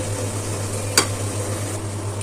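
Chicken pieces fry in a pan, a steady sizzle under a low hum, with a single sharp scrape of stirring midway; close and fairly loud, no talk.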